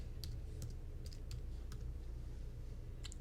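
Keys on a computer keyboard are tapped to enter a name, a sparse run of faint, quick clicks over a steady low room hum.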